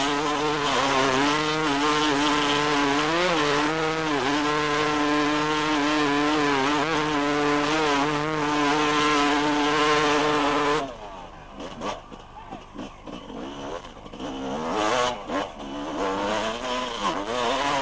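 A motorcycle at the 1995 Gilles Lalay Classic enduro rally roars at sustained high revs through a mud bog, then the engine drops and sputters briefly before surging back up, loud and close.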